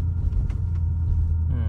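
An Audi RS7 rumbles deeply while driving, a steady low drone as the car strains, with a brief voice-like sound near the end.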